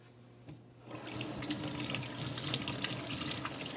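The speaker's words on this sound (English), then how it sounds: "And now you add some more water to it." Tap water runs steadily into a pot holding beef ribs, starting abruptly after a quiet moment and continuing as a close, even splashing stream.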